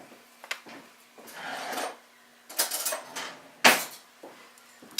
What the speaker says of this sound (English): I'm just going to mix these together for my breading.